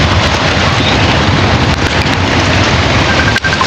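Wind buffets a microphone outdoors in a steady loud roar of rumbling noise, broken only by a brief dip near the end.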